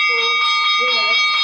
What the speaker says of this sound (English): I think that's the bell to end it, Gary.